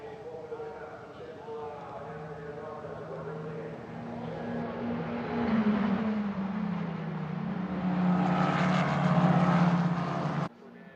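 Euro 4 single-seater race cars at Monza scream down the back straight, engines rising and falling in pitch as they pass and build, loud and fairly close, with a commentator talking over them before cutting off abruptly.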